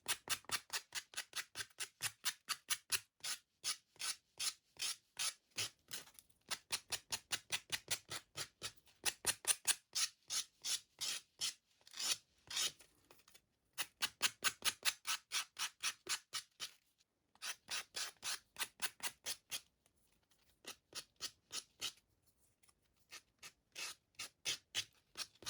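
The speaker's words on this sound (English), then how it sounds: "let's sand it" Small wooden craft sticks are sanded by hand in fast, rhythmic back-and-forth strokes, a soft, close rasping that runs in short bursts with brief pauses throughout.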